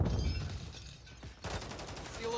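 Rapid gunfire bursts during a Call of Duty: Modern Warfare 3 multiplayer match, a rattling fusillade of shots that fades briefly and then resumes with quick repeated cracks.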